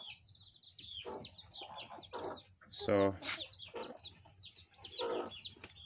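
A hen clucks repeatedly while many chicks peep in rapid high chirps close by, with a brief loud squawk midway and a voice briefly speaking.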